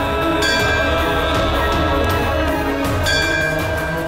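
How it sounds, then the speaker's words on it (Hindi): A bell rings by itself with loud, sustained metallic tones, struck again partway through so its ringing swells over a continuous shimmering resonance. "फिर ये घंटी कैसे बज रही है अपने आप ही?"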